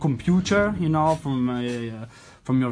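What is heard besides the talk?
No everyday noise stands out behind the speech.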